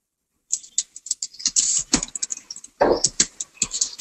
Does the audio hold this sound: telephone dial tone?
no